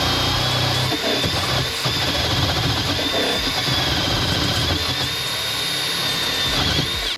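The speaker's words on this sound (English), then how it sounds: "I probably need to wire wheel this side too" A wire wheel on a power tool brushes metal on an old Japanese car, giving a loud, steady whirring scrape with a high whine that runs close and unbroken throughout.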